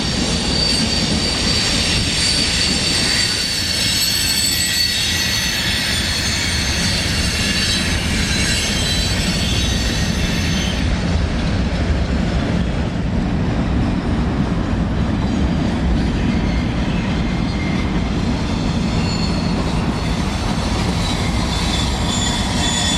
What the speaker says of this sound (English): I still was able to capture most of the mixed manifest here in Austell in the rear train DPU